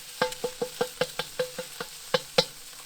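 A metal utensil chops and stirs an egg in a hot seasoned wok on a Big Green Egg ceramic grill. It gives about a dozen sharp, quick taps in an uneven rhythm, with a faint sizzle underneath.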